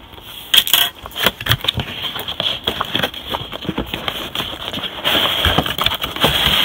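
A toy guitar model is unboxed up close, its packaging giving loud crinkling, rustling and plastic clicks in irregular bursts, with no talking.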